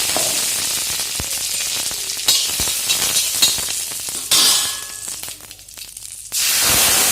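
Ground chutney hits hot sesame oil in a pan and sizzles and fries loudly, the crackle surging, easing with stirring, then flaring up again near the end.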